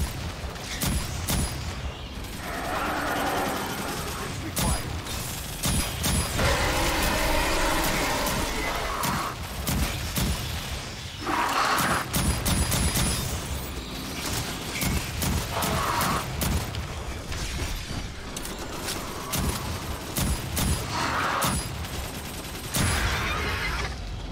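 Turret gunfire in a video game crackles in rapid bursts and repeated volleys over a busy mechanical game soundscape, with scattered booms.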